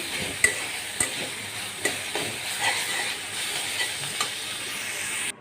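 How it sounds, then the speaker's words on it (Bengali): Saag greens being stirred and fried in a pan, a steady sizzle with scraping stir strokes and a few sharp clinks of the spatula against the pan, close and continuous. "শাকটাকে এখন ভালো করে নেড়ে চেড়ে একদম কুচুন দিয়ে গুটিয়ে একদম ইয়ে করে ফেলবো"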